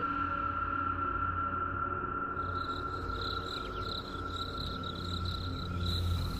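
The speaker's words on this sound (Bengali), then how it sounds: "ঝিঝি পোকা ডাকছে" Steady insect chirping fills a night-time village path in rural Bengal, crickets trilling continuously and fairly close, with a constant low rumble underneath and no voices.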